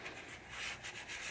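A Scotch-Brite pad scrubs briskly over the surface of a pinball machine, giving close, soft, rhythmic rubbing strokes with no talking.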